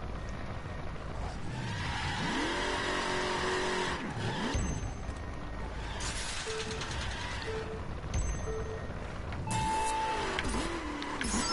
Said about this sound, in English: My freaking tires just keep like spinning and I can't get grip